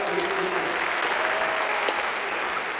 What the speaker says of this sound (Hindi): ये अपने आप थोड़ी सी ताली बजा दो अगर अच्छी बात लग रही हो तो